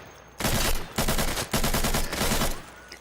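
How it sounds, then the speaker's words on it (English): RPK machine gun fired from the hip in the shooter game Insurgency: loud sustained automatic bursts in three long strings with brief gaps, rapid steady rhythm, up close and alone. "See here that hip firing a RPK is less than effective"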